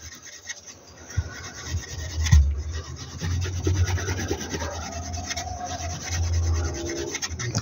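A stick burnishing the edges of a leather pouch, steady rubbing and rasping strokes, close and moderately loud, repeating in an uneven rhythm.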